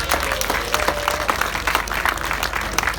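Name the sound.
audience clapping at sheep show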